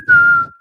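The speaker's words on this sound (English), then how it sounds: "That's that derisive Spanish whistle, Mexican whistle." A single sharp whistle, the derisive Mexican crowd whistle aimed at an idle boxer, rings out loud and close for about half a second, then trails off.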